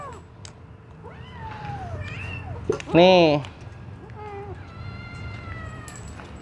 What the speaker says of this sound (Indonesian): rame-rame sekali ya kucingnya di sini tuh